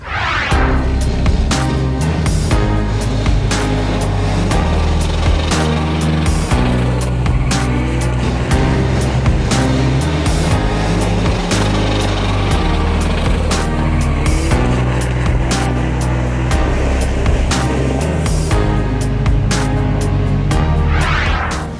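Cars race a 200 metre standing-start acceleration event at the Félix Guichard circuit, with loud, continuous engine roar and repeated sharp revving bursts over the whole span, no talk.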